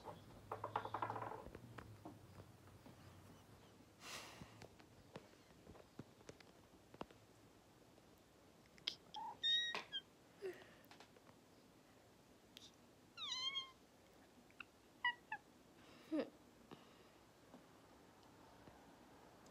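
A kitten gives several short, high meows spread across a quiet indoor room, some in quick pairs, close and fairly soft, with occasional small taps and rustles in between.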